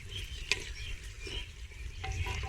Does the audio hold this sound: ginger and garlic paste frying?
yes